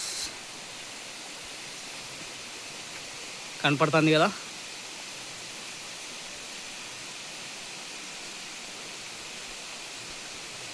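Palakondalu waterfall roars as a steady broadband wash of falling water, continuous and even throughout, with a short spoken phrase breaking in briefly partway through.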